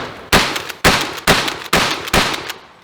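A Mossberg 500 pump-action shotgun fires five loud, close blasts at an even, steady pace, each with a short decaying tail and no talk.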